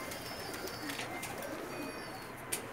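Pakistani pigeons on a rooftop coo softly with faint chirps and light background noise, quiet and fairly close, no talking.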